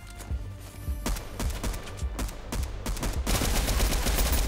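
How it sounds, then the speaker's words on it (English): Pistol gunfire in a video game: a run of sharp, loud shots at an uneven rhythm over a steady game soundscape, turning into a denser, busier burst of noise near the end. "I was lucky I got two headshots with a pistol"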